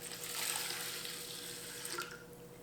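Water pours in a steady stream into a rice cooker pot, a faint, continuous gurgling splash close by, lasting a couple of seconds.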